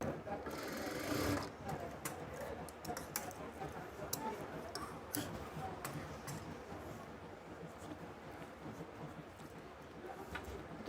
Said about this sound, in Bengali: দ্বিতীয় পার্টটিও আমাদের একইভাবে কিন্তু সেলাই করতে হবে